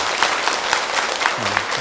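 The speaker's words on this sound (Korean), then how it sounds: "우리 새로 오셨는데 우리 환영한다고 우리 박수 한번 부탁드리겠습니다" Church congregation clapping together to welcome newcomers during a Sunday worship service, a steady dense patter of many hands filling the whole moment without pause.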